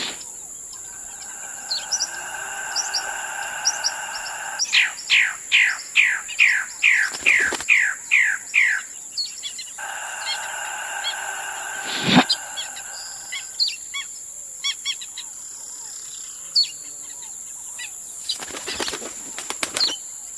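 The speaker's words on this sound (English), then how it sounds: "The magnificent bird of paradise male uses his lungs and feathers to dance and sway for the females." A male magnificent bird of paradise calls during his courtship dance: bursts of sharp, rapid chirping notes in quick series, broken by loud whirring wing flaps, close and clear over a quiet forest background.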